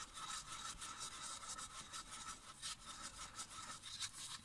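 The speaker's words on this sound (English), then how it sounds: "So when stirring, go over the bottom." Epoxy resin being stirred in a cup while mixing a heat-resistant topcoat for coasters, a steady scraping, rubbing sound of the stick going round the bottom and sides, close and continuous with no talk.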